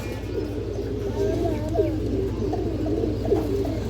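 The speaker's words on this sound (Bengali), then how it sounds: "এই দেখেন লাল চিলা কবুতর।" Red Chila pigeons coo softly in a loft, low repeated throaty calls over a steady background hum, fairly close.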